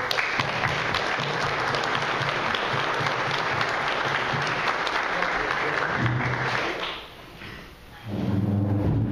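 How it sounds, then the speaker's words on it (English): Dense, loud applause fills a room at a manufacturing excellence awards ceremony, dips briefly near the end, then swells again as a voice begins. "I would request you all to join me in a round of applause for them"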